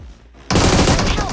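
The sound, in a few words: gunfire in video game PUBG Mobile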